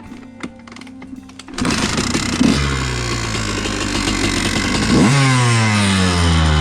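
A Honda CR125 two-stroke dirt bike revving in snow, loud and close. After brief sputtering it jumps into a sustained buzzing roar, then surges higher and holds at high revs.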